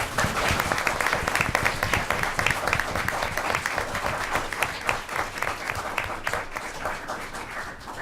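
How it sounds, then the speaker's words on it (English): An audience at a school board of education meeting gives students a big round of applause, dense steady clapping that fills the room and continues throughout. "if we can give them a great big round of applause"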